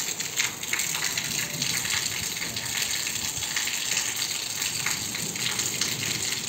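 Water gushes and overflows from a street sewer after a hailstorm, a steady, broadband rushing wash that holds at an even level throughout, with no one talking.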